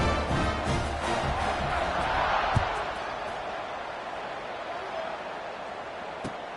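A football stadium crowd cheers before kickoff, a broad, steady roar from many people that swells early and then slowly eases, with a couple of sharp thumps cutting through.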